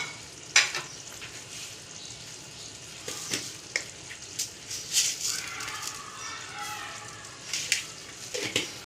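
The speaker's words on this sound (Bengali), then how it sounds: "এবার আমি এর মধ্যে ভেজে রাখা মাশরুমগুলো দিয়ে দিচ্ছি" Pre-fried mushrooms go into a hot pan for restaurant-style chilli mushroom, bringing a steady sizzle with scattered scraping and clattering stirs; close, moderate level, no talking.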